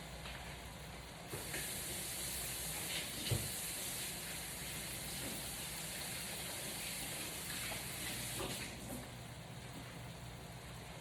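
Running tap water gushes into a sink during handwashing with a soft, steady hiss that swells to a broader rush midway and then eases, with no one speaking.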